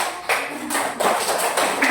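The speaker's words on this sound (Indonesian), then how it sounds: "Kasih tepuk tangan dulu" A school class claps for a classmate's good question, several short bursts of many small hands clapping close by in a room, uneven and slightly ragged, with no voices over it.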